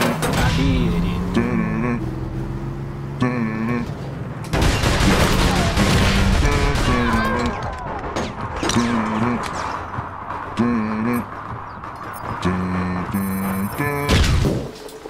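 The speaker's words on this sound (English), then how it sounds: "This is the hardest beat anybody's ever heard. It's made out of gunshots." A rhythmic music beat built from sharp, repeated gunshot bangs, with a voice rapping over it in bursts throughout.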